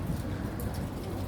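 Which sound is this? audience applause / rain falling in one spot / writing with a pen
rain falling in one spot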